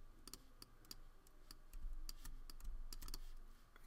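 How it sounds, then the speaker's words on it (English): Keyboard keys and mouse buttons being clicked while working in Adobe Illustrator, a string of quick, crisp, irregular taps close to the microphone, quiet, with no talking. "we're just going to keep Option-Shift-clicking and moving everything over until we got it to where we want to be"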